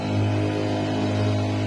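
A rechargeable sprayer's motor hums steadily without a break, low and even, close by, with no voices.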